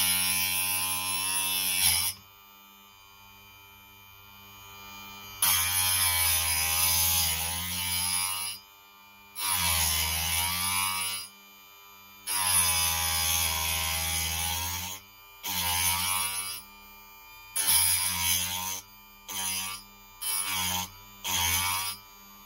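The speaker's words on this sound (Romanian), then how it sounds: "și pornim ascuțitul." A Parkside electric knife sharpening station grinds a chisel at about 15 to 20 degrees, giving a steady high buzzing whine that starts and stops in repeated bursts, long at first and then shorter and quicker, with no talking.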